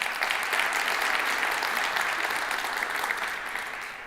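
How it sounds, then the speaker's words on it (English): Steady, sustained applause from an audience at Flint's 2024 State of the City address, a dense wash of clapping that holds for several seconds and tapers slightly at the end. "Give that a round of applause"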